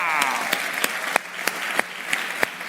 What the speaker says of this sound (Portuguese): Todo mundo na salva de palmas